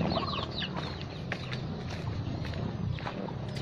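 Bangkok fighting chickens clucking and calling nearby, a few short repeated clucks over a low background rumble.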